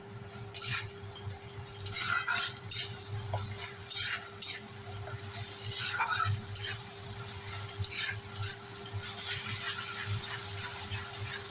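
A spice paste cooks in a pan with a soft low sizzle while a spoon stirs and scrapes it in repeated short bursts, with brief pauses between strokes.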